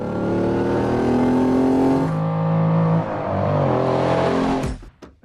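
A vintage Lamborghini Countach engine revs hard and loud, the pitch climbing and dropping in surges before cutting off abruptly near the end.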